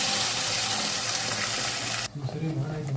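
Ground masala paste hits a hot pan for a village-style fish saaru, a loud steady sizzle that suddenly drops to a softer bubbling crackle as the paste settles in.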